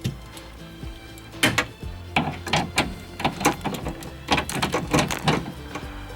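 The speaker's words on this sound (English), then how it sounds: "now I just got to put the bolts in" Bolts being set and tightened by hand on a 1997–2003 Ford F150 truck door during a power window repair, a run of close, quiet metallic clicks and ticks of irregular rhythm, no talk.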